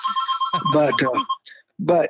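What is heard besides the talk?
telephone ringing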